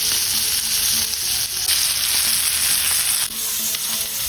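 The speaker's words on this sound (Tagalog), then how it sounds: "At ipagpatuloy natin ang pagluluto ng kabilang steak for 2 minutes." An aged steak searing in a hot pan, producing a loud, close, continuous sizzle with small fluctuations and brief dips, and no speech over it.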